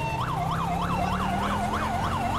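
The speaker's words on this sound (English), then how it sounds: "As you can see, the siren is totally different" A wailing police siren from a sheriff's car in the LSPDFR mod for GTA V sweeps up and down in a fast, regular cycle, loud and continuous over low engine rumble.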